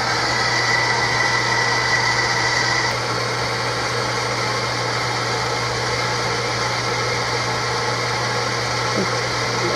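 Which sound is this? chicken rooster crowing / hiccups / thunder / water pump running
water pump running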